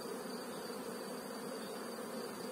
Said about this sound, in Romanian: văd că Albina lucră